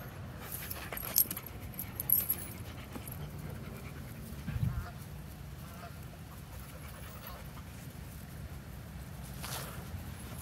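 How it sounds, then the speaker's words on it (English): A dog panting steadily outdoors while chewing on a stick, with soft irregular gnawing sounds and a few brief louder bumps, close by. "Chewing on some stick."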